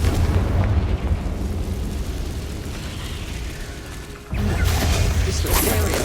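A Confringo blasting spell explodes in the Hogwarts Legacy video game, a loud booming blast with a rumbling tail, followed by a second sharp burst near the end.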